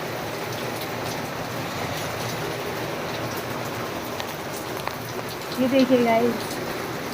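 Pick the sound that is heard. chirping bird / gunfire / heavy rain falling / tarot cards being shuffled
heavy rain falling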